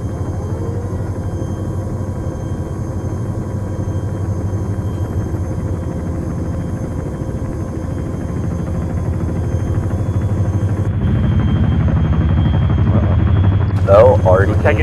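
A military helicopter in the Arma 3 video game flies along with a steady, dense rotor and engine rumble that grows slightly louder and heavier toward the end.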